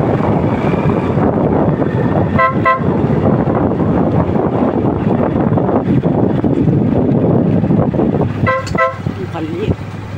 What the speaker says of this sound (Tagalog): Nagdagan mo pa isang busina